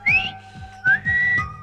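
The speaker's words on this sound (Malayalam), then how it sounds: "ആ കാലമാടം പല്ല് പറിച്ച ശേഷം ഇങ്ങനെ ഒരു സൈഡിൽ കൂടി വിസിൽ വെക്കൊണ്ടിരിക്കും" A man whistles through the gap left by a pulled tooth, producing several clear, wavering tones in short bursts with brief pauses between them, close and loud with no talking.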